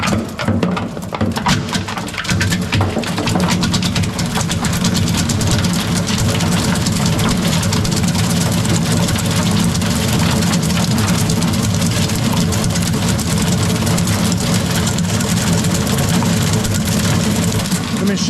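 A Virtus low speed granulator grinds a pancake-sized brown plastic purge patty, giving a loud, steady, continuous low mechanical roar and grind that holds throughout without pause.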